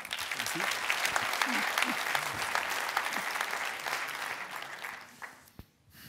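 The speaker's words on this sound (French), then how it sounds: "Jean-François Loubel, que nous applaudissons maintenant." A seated audience applauds a speaker at a French talk on innovation, a dense, steady wash of many hands clapping that fills the room, then thins out and stops near the end.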